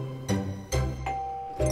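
A novelty Doorbell Shirt sounds a doorbell chime: several ringing electronic ding-dong tones, clear and close, with short gaps between them.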